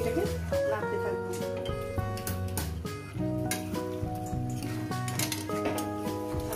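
Potatoes and spices are stirred in a metal cooking pan for a fish-oil chorchori, with repeated clinks and scrapes heard beneath continuous talking.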